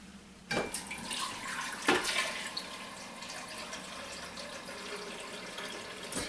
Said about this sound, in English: put 2 cups of water in